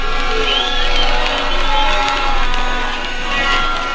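Outdoor crowd in Nakuru cheering and applauding as the county flag is handed to the governor by the president, loud sustained roar of voices and clapping that swells and ebbs in waves.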